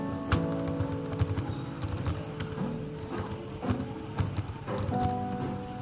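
Someone types a password on a computer keyboard during an online visa application, producing a fast, uneven run of close key clicks throughout with a few louder taps.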